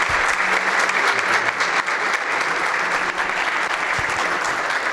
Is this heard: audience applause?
yes